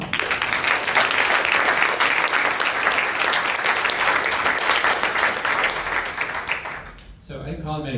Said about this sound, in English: How about a round of applause for Colin?